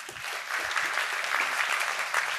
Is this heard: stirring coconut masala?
no